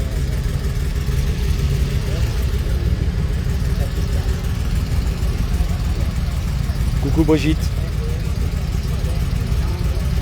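A thirty-year-old Alpine A310 sports car's engine hums and idles nearby in Dieppe, a steady mid-pitched drone beneath a voice speaking throughout.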